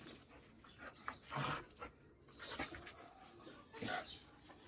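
A baladi dog, the Egyptian street breed, pants faintly in rapid, uneven breaths on a rooftop with sheep nearby, soft and distant with no speech.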